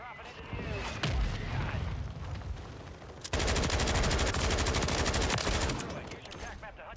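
Rapid automatic gunfire from a Bruen MK9 in Call of Duty on Rebirth Island, a loud sustained burst in the second half after quieter game sounds and a single earlier shot, with players talking over it.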